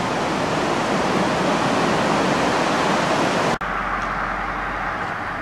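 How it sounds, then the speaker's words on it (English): Rugged river rushing through Tiger Leaping Gorge near Lijiang, a steady loud broadband roar of whitewater that runs continuously, briefly dips for an instant, then carries on slightly softer and more distant. "That's a rugged river."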